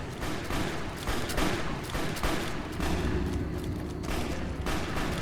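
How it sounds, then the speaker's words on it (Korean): Gunfire crackles in Fallout: New Vegas, repeated shots and bursts spread across the scene at moderate volume over a rumbling background. "왜 이렇게 총소리가 나?"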